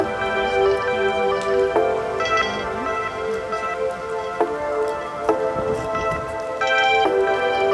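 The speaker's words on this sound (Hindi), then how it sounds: "वापस चलते हैं क्योंकि तेज़ हो रही है बारिश" Heavy rain pattering densely and steadily on surfaces, with scattered sharper drips and ticks standing out, continuous and fairly close with no talk.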